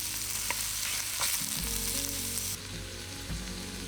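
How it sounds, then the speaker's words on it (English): Scallion whites and shallots sauté in a pot for a Thai red curry, a steady broadband sizzle running throughout with a few stirring clicks and a tonal hum underneath; no talking. "we add our scallion whites as well as the shallots. And we saute it for about 3 minutes."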